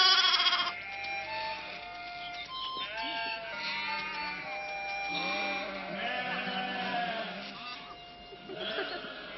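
A lamb bleats repeatedly on a farm in Sweden, its wavering cries rising and falling near and fairly loud, with other sheep calling over a steady background.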